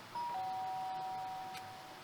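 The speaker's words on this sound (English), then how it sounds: "Sharp sound of the doorbell pierced my sleepy haze and pulled me back to the real world." A doorbell rings in the video game Danganronpa: Trigger Happy Havoc, giving two clean electronic tones that sustain for over a second before a soft fade, fairly quiet with no talk.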